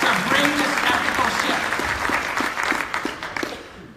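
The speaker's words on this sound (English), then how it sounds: "Give them a round of applause for the vision to bring this ethical" Convention audience applauding steadily throughout, a dense wash of many hands with a voice talking over the clapping.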